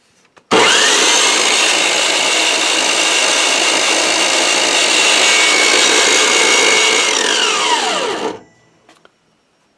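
A bandsaw fitted with a 3D printed wheel runs loud and steady for about eight seconds, a harsh broadband rattling whir that winds down sharply at the end, with no talking.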